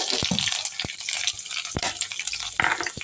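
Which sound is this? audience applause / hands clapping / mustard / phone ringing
mustard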